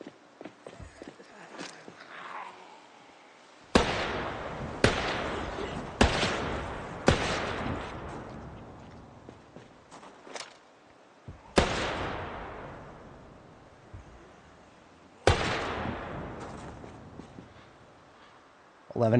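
Gunfire in the video game Project Zomboid: six sharp loud shots spaced a few seconds apart, each with a decaying echo, under someone talking.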